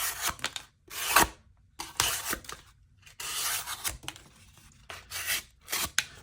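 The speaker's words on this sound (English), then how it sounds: "These next few cuts are going to have a little section here of dual cardboard at the end" A fixed-blade Baltic Blades Angis Gen 2 knife slices through cardboard, including a doubled layer near the end, in a series of loud, close, rasping tearing strokes separated by short pauses.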